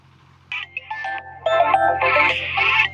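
A mobile phone plays a melodic electronic ringtone close by, in short bursts of notes that grow louder and more continuous.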